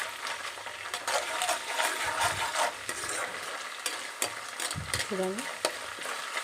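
Ginger paste frying in a pan, stirred with a utensil: steady sizzle broken by scraping and clinking strokes, close and moderately loud, with a brief spoken word.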